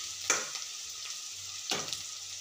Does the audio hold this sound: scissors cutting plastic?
no